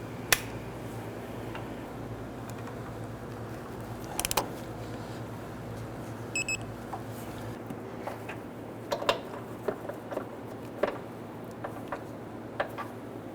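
A torque wrench tightens control arm bolts on a 2008-2013 Infiniti G37, giving sparse sharp metallic clicks and ratchet ticks over a quiet garage hum.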